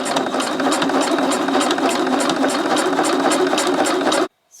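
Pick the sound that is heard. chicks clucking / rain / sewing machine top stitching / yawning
sewing machine top stitching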